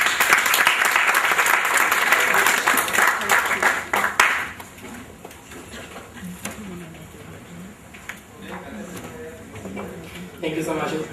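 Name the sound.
audience applause for the guest speaker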